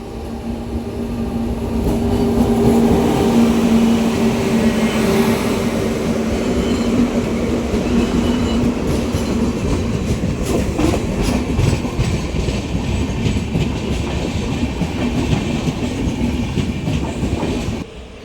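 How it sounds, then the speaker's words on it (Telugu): A train near Tirupati rolls past on the rails with a loud, sustained rumble and rhythmic clickety-clack, building over the first seconds, then holding steady before easing at the end. "నాకు ట్రైన్ వస్తుంది."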